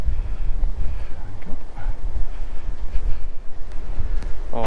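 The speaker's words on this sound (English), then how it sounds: "Oh, stop wind." Gusty wind buffets the microphone outdoors on a hillside near the Belas Knap long barrow, Winchcombe, a rough rumbling roar that rises and falls in uneven surges with no voices.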